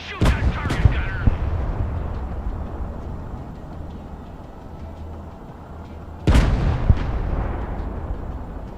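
A tank gunner fires kinetic ammunition at a target in the war game Broken Arrow: two heavy, booming cannon shots, one at the start and another about six seconds later, each followed by a long rumbling decay.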